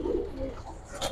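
Giribaj pigeons coo briefly in a short, low burble close by, with a faint rustle near the end.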